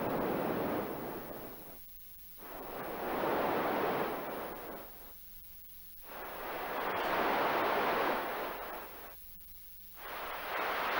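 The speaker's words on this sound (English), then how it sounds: "I'm going to use noise and to show how each band affects the overall output." Noise is passed through the bands of a PM Foundations Variable Filter Bank one after another, rising and falling in broad swells that recur every few seconds, each separated by a quieter, thinner gap, with no voices present.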